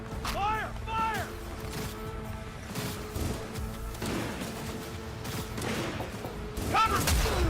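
Rapid gunfire bursts and booms from a firefight in the video game Cyberpunk 2077, coming in repeated volleys with voices shouting over the shooting throughout.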